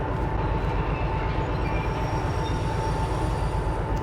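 Locomotive rolling on rails in the Derail Valley train simulator, hauling a heavy freight load of about 1,368 tons, a steady loud rumble with a rhythmic clatter of wheels, continuous and close.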